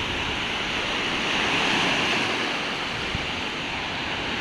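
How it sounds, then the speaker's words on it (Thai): Sea surf washes onto the beach at Nang Rong and Nang Ram in Sattahip, Chonburi, a steady broad hiss of breaking waves that swells gently, with no voices. "ทะเลเนาะพี่น้องเนาะ"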